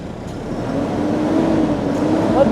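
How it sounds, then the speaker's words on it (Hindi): An Eicher Pro 3019 AC truck, 2025 model, with its diesel engine running steadily after a start, a close, continuous low rumble that holds level throughout, with no talk over it. "उससे पहले एक बार आपको गाड़ी की आवाज़ सुना देते हैं चालू करके कि गाड़ी जो है चालू कैसे होती है।"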